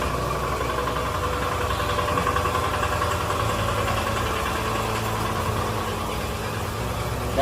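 Small petrol engine powering a farming machine, running at a steady idle with a close, even mid-pitched hum and rhythmic knocking vibration throughout.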